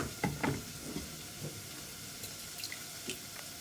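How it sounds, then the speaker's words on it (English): Water from a kitchen tap splashes inside a container being rinsed, with a few brief splashy bursts and clinks near the start, then a quieter steady trickle. "And I always rinse the inside of these."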